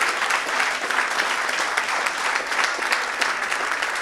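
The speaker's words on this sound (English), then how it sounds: "Give the applause to him." Sustained, dense applause from an audience at a live show, steady and loud for several seconds without a break.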